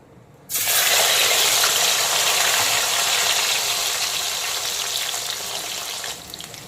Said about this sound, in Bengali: এখন মাছ ভাজার তেলেই দিয়ে দেব ভাপানো শোলা কচু।